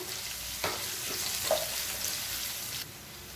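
Chopped large onions hitting hot oil in a pan while cooking a Tamil mutton dish, giving a steady, close hissing sizzle with a couple of louder pops near the start, easing slightly near the end.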